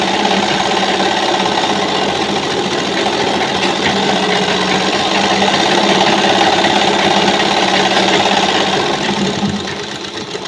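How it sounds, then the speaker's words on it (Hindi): A sewing machine stitches the bottom fold of a petticoat, running as a loud, steady whirring buzz for about ten seconds before easing slightly at the end; no talking. "अब इसी तरीके से हम एक सिलाई यहाँ नीचे बॉटम से चला दे रहे हैं।"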